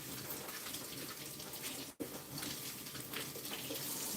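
Kitchen tap water runs steadily into a sink as zucchini is rinsed, a continuous splashing hiss that breaks off for a split second midway, then resumes.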